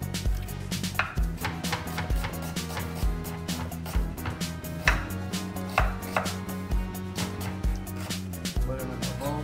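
Onions sliced thinly with a knife on a board, a steady run of crisp chopping taps at an even rhythm, close and distinct throughout.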